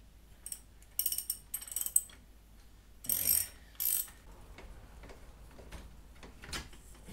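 A hand ratchet with a 1/2-inch socket loosens the wheel nuts on a 2022 Kawasaki KLR 650, sounding as several quick, close bursts of sharp clicking pawl ticks separated by short pauses and softer handling noises.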